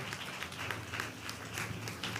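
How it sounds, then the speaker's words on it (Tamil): A congregation claps together at a Christian church service, producing a steady, fairly quiet patter of many hands that continues without a break. "நல்ல கைத்தட்டி ஆண்டவருக்கு நன்றி சொல்லுங்களேன்"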